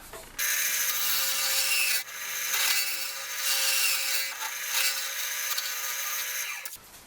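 A carbide cutter hollows the inside of a wooden vase spinning on a lathe, giving close scraping and rasping bursts with brief pauses between passes, fairly quiet and with no talking.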